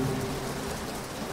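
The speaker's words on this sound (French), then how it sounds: "Ouais, il y a un gros orage." Heavy thunderstorm with steady, dense rain pounding down and a low rumble of thunder underneath, loud and continuous with no voices.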